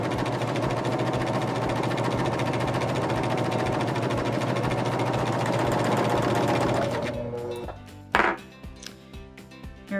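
A Baby Lock Vibrant serger stitching a flatlock seam runs at a steady, loud, rapid whir for about seven seconds, then slows and stops, followed by a few separate mechanical clunks and clicks.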